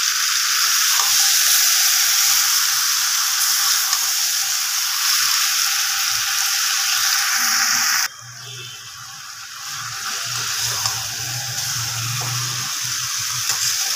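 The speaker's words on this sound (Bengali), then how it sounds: "অনেকক্ষণ ধরেই মাংসটা কষাচ্ছি" Chicken sautéing in a pan, a steady loud sizzle for several seconds that suddenly drops in level and continues more softly with some low stirring and scraping, no voices.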